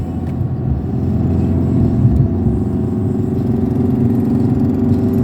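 A learner's car climbs a ramp in second gear on a driving-school practice track, its engine held at raised revs in a steady, loud mid-pitched drone that runs without a break.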